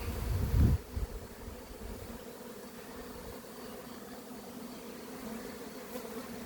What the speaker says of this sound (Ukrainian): Пасіка гуде.